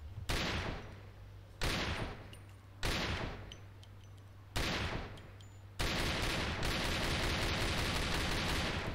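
Sustained automatic fire from the para gun in the online shooter A.V.A, coming in four short bursts and then one long unbroken stream. The shots sound loud and close, with no voices.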